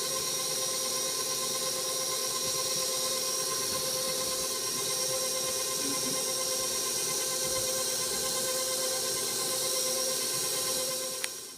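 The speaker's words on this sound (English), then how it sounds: "So the mixer's back on, and we're just going to gently add in our dry ingredients" An electric mixer runs continuously, blending dry ingredients into marbled brownie batter with a steady, even whirring hum that holds at a constant level throughout.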